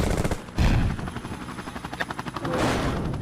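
Rapid rotor chopping from helicopters in the War of the Monsters video game, pulsing in a steady rhythm mid-clip between louder crashing bursts, with gunfire-like rattle mixed into a busy game soundscape.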